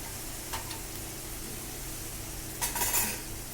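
A ginger and green chilli paste sizzles faintly in a frying pan for spicy pabda fish, with a couple of soft utensil scrapes and clinks against the pan and no voices.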